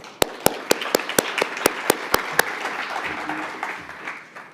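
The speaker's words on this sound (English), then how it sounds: "a big round of applause, please, for our panel" An audience at a technology conference session applauds a panel. A few loud, close, evenly spaced claps stand out over a softer spread of clapping that gradually fades away.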